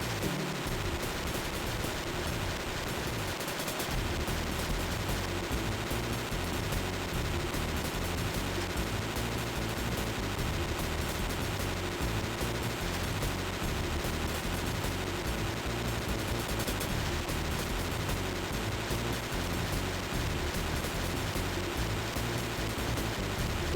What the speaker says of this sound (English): You've been shooting the flamethrower for 40 minutes.